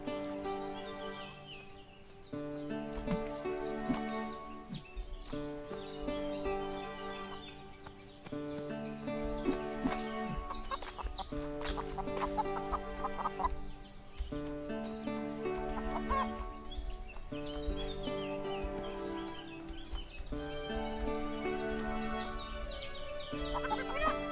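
Chickens in the farming video game Everdream Valley, repeated clucks and soft squawks over a steady looping backdrop of melodic game music, moderately close and continuing throughout.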